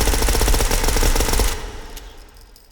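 Suppressed PP2000 submachine gun fire in the VR shooter H3VR: a loud, dense burst of rapid automatic shots for about a second and a half, followed by a fading tail and a few small mechanical clicks.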